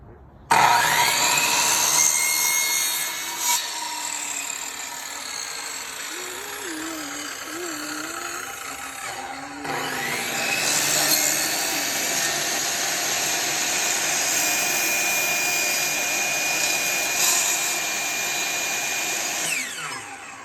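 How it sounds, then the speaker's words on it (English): A Dremel rotary tool grinding and cutting through a quail feeder, a loud, close, high-pitched whine with shifting pitch that runs nearly continuously, and a brief break in the middle. "now I gotta Dremel this again"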